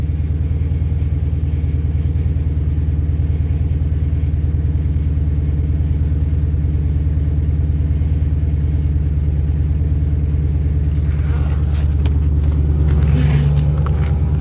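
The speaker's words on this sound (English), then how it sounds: "Power steering pump's crying" A Chrysler runs low on power steering fluid, its steady engine rumble joined by a continuous pump whine, and a brief louder whine and some clatter come in near the end.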